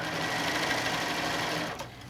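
A sewing machine stitches a quilt seam through batting, running in a fast, even, close mechanical whir before slowing to a stop near the end.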